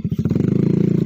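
Motorcycle engine running close by with a rapid, even pulsing beat, loud and steady, with a little rattling clatter over the thump.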